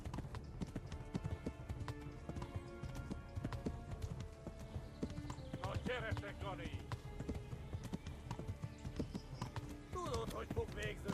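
Galloping horse hooves in the medieval video game Kingdom Come: Deliverance, a steady rapid clip-clop rhythm running throughout alongside game music, with someone talking over it.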